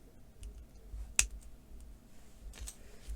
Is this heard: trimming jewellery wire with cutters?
yes